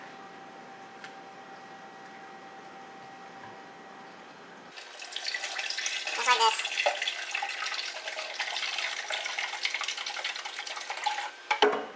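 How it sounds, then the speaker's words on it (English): Liquid pours steadily into a Keurig coffee maker reservoir with a broad splashing rush that starts partway through and continues to the end, with a brief voice speaking near the start. "you want to go ahead and pour this entire bottle into the container here"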